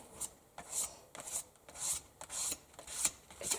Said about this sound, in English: I'm just scraping until I'm happy with the way